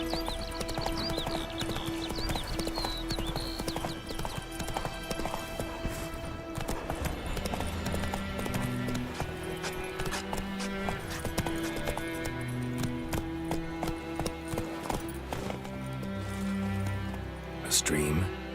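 Roach, Geralt's horse in The Witcher 3, galloping with rapid drumming hoofbeats, mixed with game music and someone talking over it.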